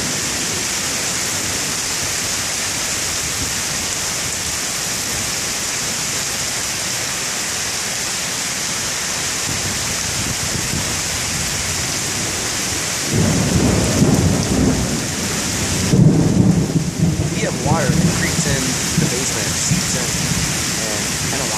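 A heavy night thunderstorm in Chicago pours rain in a steady loud roar, with thunder rumbling and swelling near the end.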